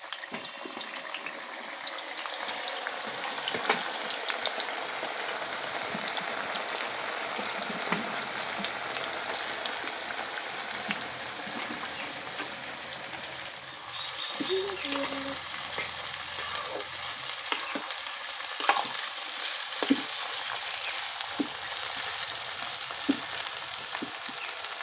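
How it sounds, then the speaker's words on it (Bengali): Sliced onions for biryani frying in hot oil, a steady close sizzle and crackle that runs throughout with faint stirring clinks and no talk. "তেল গরম হয়ে গেছে, এবার বেরেস্তাটা ভেজে নেব।"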